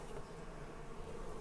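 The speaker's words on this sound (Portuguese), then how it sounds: "Essa daqui é uma abelha bem forte." Stingless bees buzzing around a hive during internal feeding, a faint, continuous hum close by with no voices.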